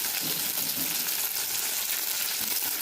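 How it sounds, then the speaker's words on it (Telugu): Thinly sliced onion and curry leaves fry in hot oil, making a dense, even crackling sizzle that holds steady and close throughout. "సన్నగా కట్ చేసుకున్న ఆనియన్ వేసుకున్నాను కరివేపాకు వేసాను"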